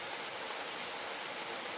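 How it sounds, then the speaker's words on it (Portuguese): Steady, dense rain falls in Chamonix in the French Alps, a continuous even hiss of drops with no pauses, close and fairly loud on its own. "Chove,"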